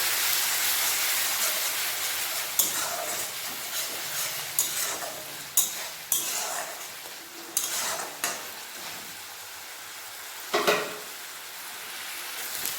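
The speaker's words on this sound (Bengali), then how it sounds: "মশলাটিতে গরম জল দিয়ে হালকা করে তারপর কষে নেব ভালোভাবে" Spice paste loosened with hot water and stir-fried for a broccoli and potato dish, giving a steady sizzle broken by repeated sharp spatula scrapes and knocks against the pan, close and moderately loud, with no voices.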